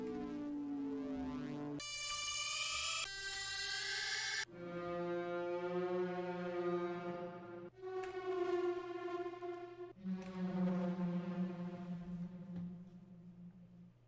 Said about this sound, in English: now we are moving on to the melodic hits